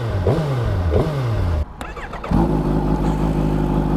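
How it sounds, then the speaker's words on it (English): A Suzuki Hayabusa motorcycle is blipped twice in rising revs, falls briefly quiet, then its engine starts and settles into a loud, close, steady idle. "Let's power her up."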